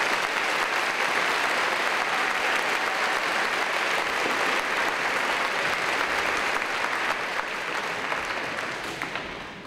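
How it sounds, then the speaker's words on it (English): Steady, sustained applause from a graduation ceremony audience, filling the room evenly for nearly ten seconds before tapering slightly at the end, with no speech over it. "Ladies and gentlemen, please applaud Miss Christina Holt."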